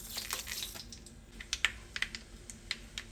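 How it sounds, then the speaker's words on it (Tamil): Mustard seeds and dried red chillies in hot oil on a low flame while making crab masala, producing faint, scattered crackling pops and sharp little snaps at an irregular pace. "இப்போ கடுகு நல்லா பொரிஞ்சிருச்சு."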